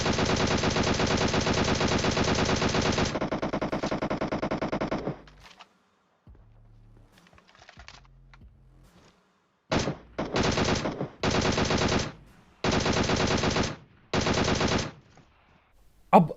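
Bursts of automatic gunfire in the mobile battle-royale game PUBG Mobile: a long loud sustained volley, a quieter gap with faint activity, then four or five short sharp bursts separated by brief pauses.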